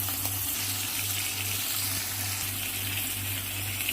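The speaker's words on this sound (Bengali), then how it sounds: "মাছটা আমি ভাজা বসিয়ে দিলাম।" Pomfret fish fry lightly in a pan, giving a steady, close, even sizzle with a faint low hum underneath and no voices.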